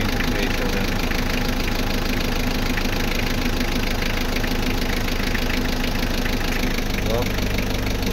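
Mitsubishi L300 engine idling during freon charging with the air-conditioning compressor engaged, giving a loud, steady mechanical drone with a slight shift near the end; someone talks over it.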